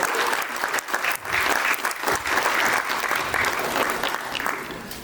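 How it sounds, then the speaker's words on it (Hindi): A large audience at an NTPC company event breaks into vigorous applause, a loud, dense wash of clapping with slight swells and dips, continuing steadily with no speech over it. "तो जोरदार तालियां हमारे एनटीपीसी के पूरे परिवार के लिए."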